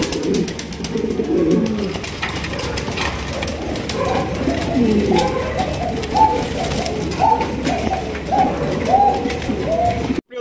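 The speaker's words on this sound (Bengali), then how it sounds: "এখানে রয়েছে খুবই সুন্দর এক জোড়া আপনার ব্লু বার বিউটি কবুতর" A pair of blue bar beauty pigeons coo at a large pigeon farm, with soft repeated coos growing clearer in the second half over a constant background murmur of other birds.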